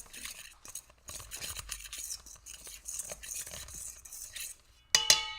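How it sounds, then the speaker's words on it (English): A utensil stirs sugar, vanilla and egg together in a bowl for a keto cookie mixture, making continuous soft scraping swirls, followed by a brief bright clink at the end. "And stir, stir, stir, stir, stir, stir, stir."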